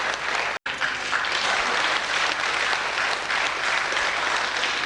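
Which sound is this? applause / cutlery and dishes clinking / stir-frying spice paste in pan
applause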